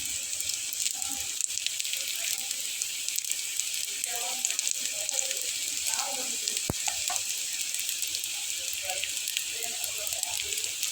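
A crispy snack frying in hot oil, with a steady fine sizzle and scattered crackles and pops, fairly quiet and heard close up.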